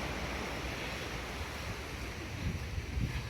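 Sea waves washing onto the beach at Cheung Sha on Lantau Island, a continuous broad surf roar with wind buffeting the microphone, swelling slightly toward the end.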